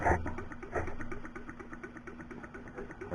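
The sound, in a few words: small horizontal Stirling engine running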